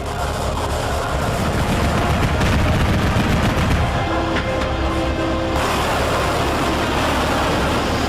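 Gunfire and artillery from Chinese army firing drills, a dense continuous barrage of shots and blasts with heavy low rumble throughout, loud and sustained.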